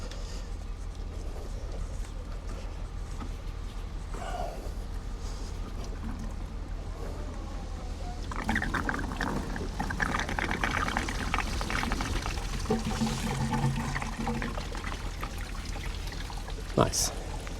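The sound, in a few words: coolant pouring out of Mercedes W201 190D hose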